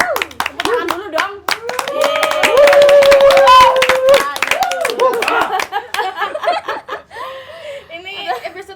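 A studio audience claps in quick, sharp, close bursts during a casual talk show, with chuckles and laughter and people talking over the applause before it thins out into scattered claps.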